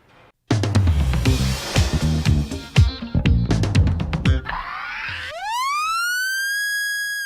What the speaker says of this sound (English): the sound of a police siren has always meant help is on the way